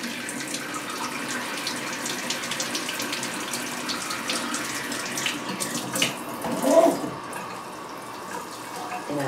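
Water running from a tap or being poured steadily while a potted plant is watered well, a continuous soft splashing stream across the whole span with a slightly louder gurgle near the end.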